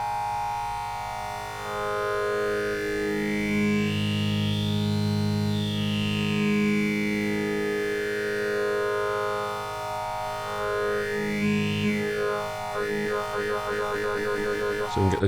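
A Korg RADIAS synthesizer plays a sustained chord through a formant waveform, its vowel-like tone sweeping up and down twice in slow, owl-like hoots before a fluttering, wobbling tail; loud and continuous, with no talking.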